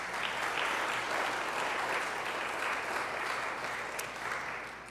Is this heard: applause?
yes